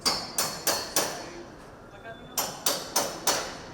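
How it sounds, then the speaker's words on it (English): Sharp hammer blows ring out as cladding panels are stripped from a South London tower block, three strikes, a pause, then four more in a steady rhythm, loud and close against faint background noise. "and the hammers ring out"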